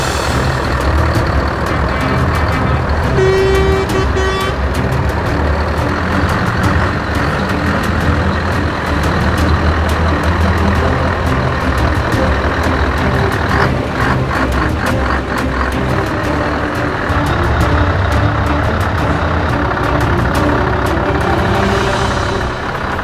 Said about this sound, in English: So all the trucks are just lined up here, just waiting for the go-ahead to drive all around the track.